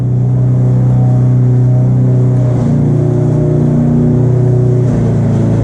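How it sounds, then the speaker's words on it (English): An Ascend H12 electric trolling motor runs steadily and loudly close by, its hum shifting pitch twice as the handle is turned to change speed, with no talk over it. "when I turn the handle to get the motor going"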